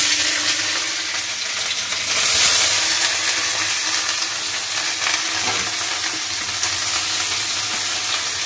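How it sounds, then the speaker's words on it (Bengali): Grated coconut fries in hot oil, giving a loud, steady sizzle and crackle that swells briefly as it is stirred, continuous throughout with no voices over it. "তেল গরম হয়ে গেছে, প্রথমে আগে আমি নারকেলটাকে ভেজে নিই।"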